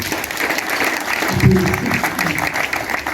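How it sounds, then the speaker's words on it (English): An audience at a church gathering claps steadily, with dense, continuous applause throughout and a brief voice partway through. "Clap for them."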